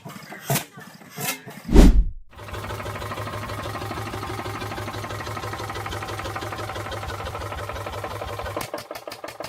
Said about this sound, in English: The Esiok Andoria S-60 is a classic Polish single-cylinder diesel stationary engine